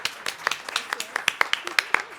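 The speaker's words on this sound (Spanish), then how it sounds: "un aplauso a nuestras autoras, por favor" Scattered clapping from a small audience at a book presentation, with distinct individual claps landing in an uneven rhythm, close and moderately loud.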